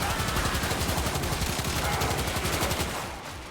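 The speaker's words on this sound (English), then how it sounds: "just getting to like hip fire the Knell into him is very satisfying" Knell Prime firing in the video game Warframe, hip-fired at a target: a dense, continuous burst of rapid shots in steady rhythm, loud and close, tailing off near the end.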